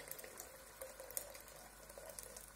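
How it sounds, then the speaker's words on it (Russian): About a litre of water poured into a simmering tomato and passata lasagna sauce in a pot, a soft continuous splashing and bubbling trickle at close range, fairly quiet, with no talking. "И сюда же мы отправляем, ну, примерно литр воды"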